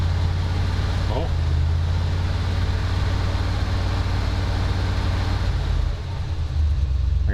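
A 1977 Ford F250 engine held at high revs, a loud steady drone with no pauses that dips briefly near the end.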